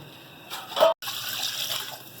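Water pours from a tap into pots and frying pans, a short rising splash that cuts off abruptly, then a steady softer trickle and hiss, close by with no talking.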